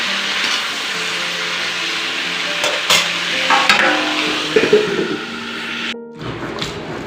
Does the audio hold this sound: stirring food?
yes